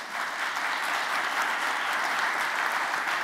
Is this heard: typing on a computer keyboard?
no